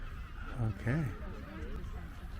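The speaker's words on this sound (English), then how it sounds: "in this section here, there's so many seagulls." Gulls calling at a seabird colony on Magdalena Island near Punta Arenas, Chile, two short honking cries close by over steady wind and outdoor noise, with brief talk.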